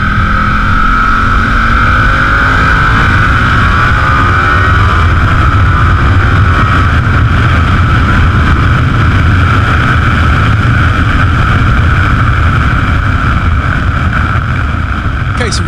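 A Ducati Diavel motorcycle engine runs loud and continuous while riding, with a rising then steady engine tone blended with heavy wind rush throughout.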